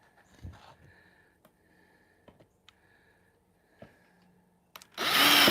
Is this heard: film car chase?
no